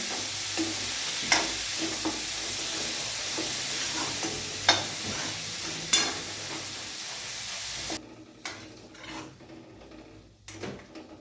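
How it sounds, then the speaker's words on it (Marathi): Capsicum sizzles steadily as it sautés in a pan, with occasional sharp scrapes and clinks of a spatula stirring; the frying hiss drops away partway through, leaving sparse utensil knocks against the pan. "शिमला मिरची टाकलेली आहे. याला चांगलं परतून घ्यायचं आहे."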